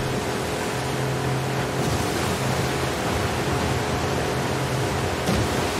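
Steady broadband ocean surf wash in the video game The Last of Us Part II, a continuous even roar of waves with a faint low drone underneath and no clear breaks between swells.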